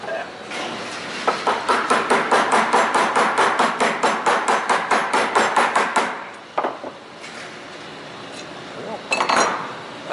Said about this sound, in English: I take a hammer and just give it a little tap